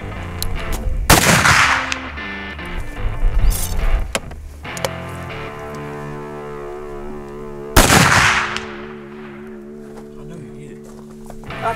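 Two loud gunshots from a muzzleloader rifle fired during a Kansas deer hunt, one near the start and another about six seconds later, each booming and then ringing out in a long fading echo, with background music underneath.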